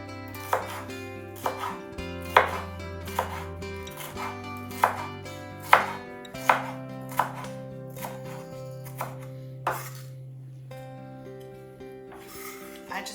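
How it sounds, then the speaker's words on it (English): A knife chops an orange pepper very finely on a board for a fresh sweet corn salad, with about a dozen crisp, evenly spaced chops slowing near the end while soft background music plays underneath. "we're just going to cut our pepper, again, very small"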